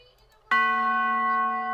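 A single bell tone strikes abruptly after a quiet moment on a hip-hop beat drop, a bright, sustained ringing note with clear overtones that holds steady and slowly fades.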